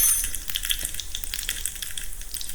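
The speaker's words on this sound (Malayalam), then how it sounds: "ജീരകം പൊട്ടിക്കഴിയുമ്പോഴേക്കും" Cumin seeds splutter and crackle in hot oil for a dal tempering, a steady close sizzle dense with rapid small pops that continues throughout without any talk.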